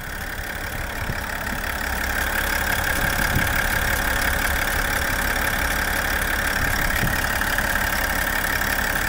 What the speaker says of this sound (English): turbo diesel. There it is. Not too loud at all.